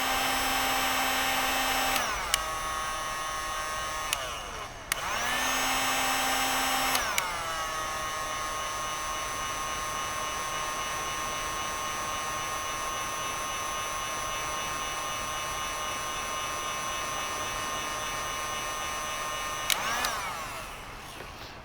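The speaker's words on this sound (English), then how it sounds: "So we take our heat gun" A heat gun shrinks heat-shrink tubing on waterproof wire connectors while a Garmin 126SV transducer is wired in. Its steady whirring blower runs loud and close, clicking off and on briefly a few times before running unbroken for a long stretch.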